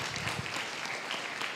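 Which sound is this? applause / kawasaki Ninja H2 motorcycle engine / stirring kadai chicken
applause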